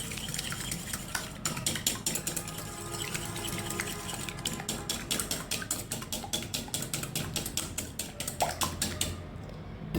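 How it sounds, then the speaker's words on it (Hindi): An egg being beaten in a bowl for corn flour flatbread dough, a rapid run of close, rhythmic clicking and tapping strokes against the bowl, fairly faint, with no voices. "ये मैंने अंडा इसमें डाल दिया है तो इसको मैं अब अच्छी तरह से फेंट लूँगी"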